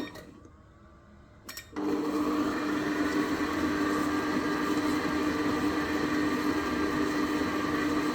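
Electric mixer beating cookie dough for copycat Millie's cookies; after a brief quiet moment and a click, a steady loud motor whir starts and runs continuously, close by.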